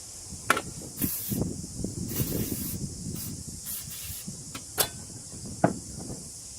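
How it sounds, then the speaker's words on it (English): Aerosol carburettor cleaner hisses in short sprays during work on a Yamaha Viking engine installation, the close bursts spaced over a few seconds amid light handling clatter. "It's just a bit of carb cleaner. Just an aerosol I had left over"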